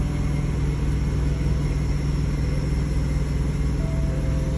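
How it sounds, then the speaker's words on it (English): A Kenworth T680 semi truck idles close beside the cab, a steady low diesel rumble with a constant hum that holds unchanged and fairly loud throughout, with no talk over it. "It's a T680 idling next to me."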